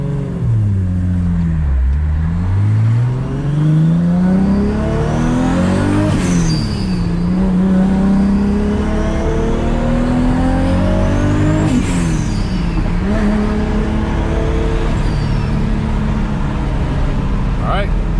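A Toyota Supra, just back from a differential and ring gear replacement, drives on the road with its engine revving up and dropping through gear shifts, loud and close throughout, with a voice speaking over it.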